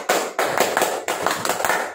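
An audience gives the Edmark clap at an Edmark Live raffle event, sharp hand claps landing in quick bursts of several claps with short pauses between, close and loud, with no talking.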